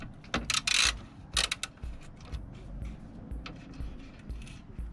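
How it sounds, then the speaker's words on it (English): Ratchet clicks close by while a 10mm bolt is undone from a bonnet strut on a Seat Ibiza, coming as quick irregular bursts of mechanical clicking over a faint background. "we're going to start off by removing this bolt and this bolt. So this bolt down here is a 10mm, so we're going to start with that"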